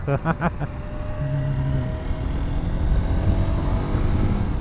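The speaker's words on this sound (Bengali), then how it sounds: "আরেকবার এনএক্স টু হান্ড্রেড মানে হালকা একটু প্রেশার দিচ্ছি তবে ওভার স্পিডিং না ওভার আরপিএম না" A Honda NX200 motorcycle engine drones steadily while riding under light throttle at moderate revs, with wind rush over it and a few sharp clicks at the start.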